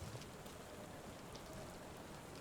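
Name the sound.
rain in the video game Sherlock Holmes: The Awakened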